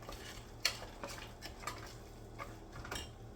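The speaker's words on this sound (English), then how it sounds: "I like to use just a pinch of salt to enhance the flavor of the sweetener. Okay, stir that in." Salt stirred by spoon into a peanut cluster mixture, giving soft scraping with a few light clinks of utensil against the bowl, a sharp tap near the start, close and quiet with no talking.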